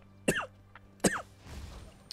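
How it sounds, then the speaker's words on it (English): Two sharp, close coughs about three-quarters of a second apart, followed by soft rustling, with faint game sounds in the background. "I'm coughing, but don't worry, it's not Rona."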